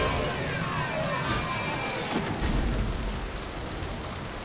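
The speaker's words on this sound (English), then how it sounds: "It's raining very heavily" Heavy rain falls in a Mass Effect 2 game scene, a steady dense hiss at moderate level throughout with a faint low rumble underneath and no talk.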